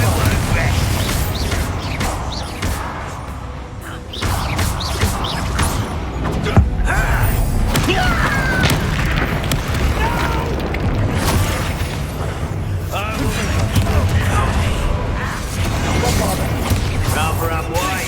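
Confringo explosive spell blasts in Hogwarts Legacy combat: repeated booming bursts and crackling magical impacts in a dense, busy battle mix, with voices shouting over the din throughout.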